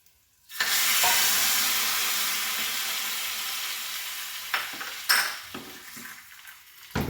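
Curry leaves hit hot oil for Asthram, a sour Kerala curry made with yam, bursting into a loud, close sizzle that slowly fades, followed by a few utensil clanks.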